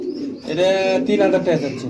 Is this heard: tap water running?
no